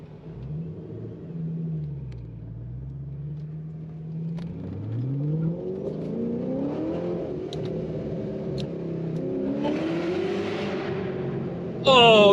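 A 2006 Ford GT's V8 pulls through the gears on the Autobahn, heard from inside the cabin as a deep rumble rising and falling in pitch with each rev and shift, under a steady road roar.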